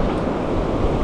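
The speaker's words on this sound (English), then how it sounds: "I'm bloody getting attacked by these waves" Ocean waves wash and crash on the shore in a continuous loud roar of surf with heavy wind buffeting the microphone, no voices heard.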